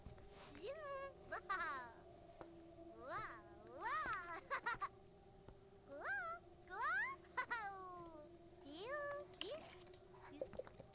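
A cat in a life-simulation video game meows repeatedly, with rising and falling calls in uneven bursts over a steady humming game soundtrack, heard fairly faint.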